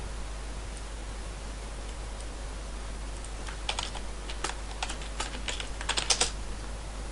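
Keys clack on a computer keyboard in short, irregular bursts of quick taps, faint and close against a steady electrical hiss, with the typing growing busier toward the end.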